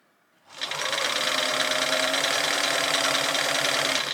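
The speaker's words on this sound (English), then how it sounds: "I'm going to pin this whole side together and I'm going to run my machine down it." A sewing machine runs down a pinned side of fabric, pushing pleats in as it stitches. It gives one continuous, close, loud mechanical whirr that starts abruptly and holds steady for several seconds.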